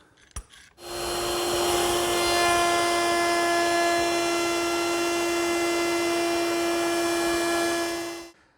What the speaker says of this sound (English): I'm using a 1/4-inch beading bit to make that detail